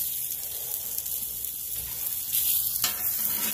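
Onions frying in a pan for a pastrami cheeseburger, a close, continuous crackling sizzle that swells slightly near the end, with no voices.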